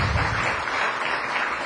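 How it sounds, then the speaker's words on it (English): An audience at a marine debris forum applauds its guests, a brief, fairly loud and even burst of many hands clapping together. "can I get a round of applause for our guests tonight?"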